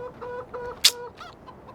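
A chicken in the video game Farming Simulator 15 gives a short run of soft clucks. One sharp, louder squawk sits in the middle, all close and clear over a quiet background.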